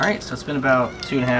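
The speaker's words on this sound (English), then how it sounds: "pardon the begging cats" Cats meow repeatedly, begging at a door during an outdoor grilling session, their drawn-out cries overlapping a man's speech at close range.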